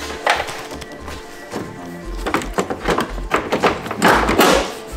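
New taillight for a Mazda RX7 FC being popped into place, a series of light plastic thunks, taps and clicks close by, irregular and fairly quiet, with no one talking.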